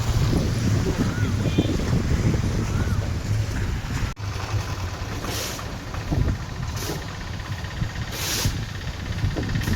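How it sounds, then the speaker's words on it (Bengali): Strong wind at a riverside eco resort in Gadiara roars and buffets the microphone without a break, with a rumbling, gusty rush throughout. "আজকে প্রচুর হাওয়া দিচ্ছে"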